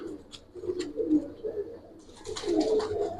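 Silver Giribaz pigeons in a loft give repeated low, throaty coos in a steady rolling rhythm, close and moderately loud, with bright clatter and flutter joining in the second half.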